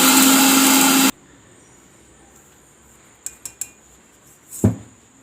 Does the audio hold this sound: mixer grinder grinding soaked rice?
yes